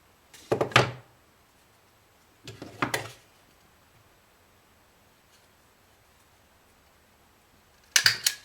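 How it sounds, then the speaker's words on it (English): A stapler clamps paper at its top corner with three sharp, separate clacks spaced a few seconds apart, close and alone with no voice. "I'm going to staple it to the top corner"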